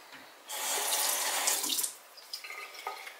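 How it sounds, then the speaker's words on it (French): Water gushes from a sink tap for about a second and a half, loud and close, while being added to a skincare mix during a summer night routine; afterwards only a few faint drips and light taps of handling remain. "je vais rajouter de l'eau"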